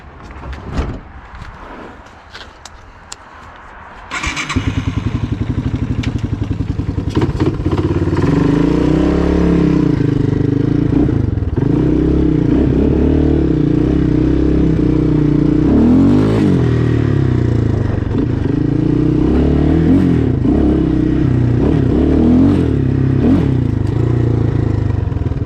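A Yamaha YTM225DX three-wheeler, with its plastics just refitted, cranks and fires up after a quiet few seconds of fiddling. It then runs continuously, revving and rattling nearby through a test ride, loud throughout.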